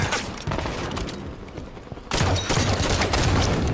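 Sustained automatic gunfire from a Halo 5 4v4 Slayer match, dense rapid bursts that briefly thin out and then resume at full volume, loud and close throughout with no voices over it.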